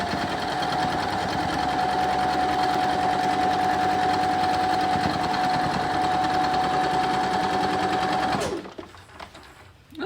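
A sewing machine stitches the corners of a nine-patch quilt block in one steady, close, fast-running whir with a constant motor hum, then stops abruptly near the end.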